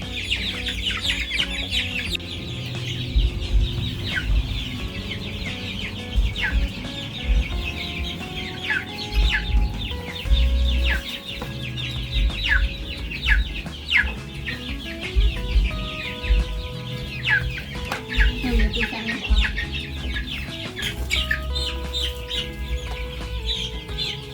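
Flock of farm chickens clucking and squawking steadily throughout while being vaccinated against chicken cholera, with a busy, close mix of overlapping bird calls and scattered clattering underneath.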